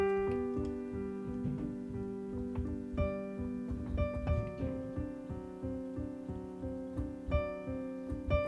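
Piano playing the next section of the Moonlight Sonata adagio, a steady stream of gently repeated notes over held bass tones, soft and unhurried with no voice.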